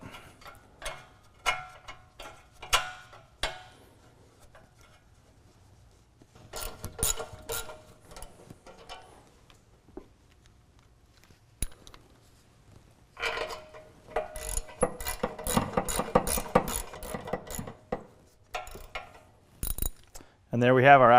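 A ratchet bolts a car's axle-back exhaust back up: clusters of quick metallic clicks in bursts with pauses between, fairly close, plus a few clanks.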